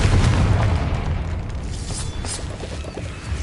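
Fiery spell explosion in the video game Hogwarts Legacy, heard as a loud, rumbling close blast that keeps booming and crackling for a few seconds with no speech over it.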